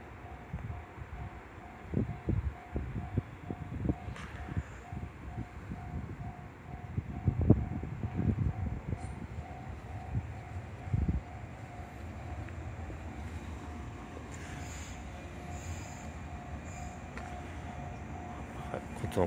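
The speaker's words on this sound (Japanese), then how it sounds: "はい、中津行き普通列車です。" A 415 series local passenger train bound for Nakatsu rumbles past nearby at Kusami Station on Japan's Nippō Main Line, with rhythmic low clatter and a steady mechanical hum, easing into a constant drone as wind buffets the microphone.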